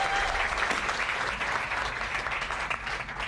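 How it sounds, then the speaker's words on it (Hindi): Loud, steady applause from a comedy roast audience, dense clapping filling the whole stretch without a break. "एक बार जोरदार ताली देना"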